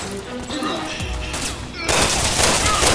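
Dense bursts of rapid gunfire from the Resident Evil 6 video game, loud and continuous, with a harsher volley breaking in near the end.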